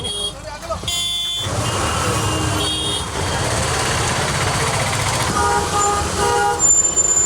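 Busy Indian city traffic with repeated car and truck horn toots over a constant engine rumble, several honks overlapping at moderate distance and a reversing beep mixed in, no talking heard.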